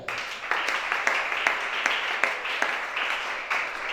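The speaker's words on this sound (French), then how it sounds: "Acclamons chacun." A church congregation at a worship service in Gabon applauds together, a dense crowd clapping that carries on steadily with regular rhythmic accents.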